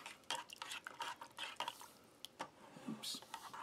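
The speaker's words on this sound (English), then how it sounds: "We'll give this a little stir." A spoon stirs oatmeal from an apple-cinnamon cold weather ration in a metal canteen cup, giving a close run of scraping and clinking strokes with brief pauses and a wet, sticky edge.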